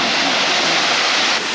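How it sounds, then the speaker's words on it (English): A small waterfall on the Hanfei River in Zhejiang sends up a steady, dense broadband rush of falling water, close and loud and unbroken across the clip, with no voices. "so it's like kind of like a small waterfall"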